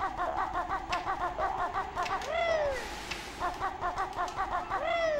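Stock seagull cries from Banjo-Kazooie's Treasure Trove Cove: repeated rhythmic gull calls with several long swooping squawks, fairly close, over a steady seaside game ambience with no talking.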